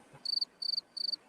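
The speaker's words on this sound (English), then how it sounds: "That would be the crickets." Crickets chirp in three evenly spaced, pulsing bursts, each a quick trill of high, clear notes, heard alone and at moderate volume against a quiet background.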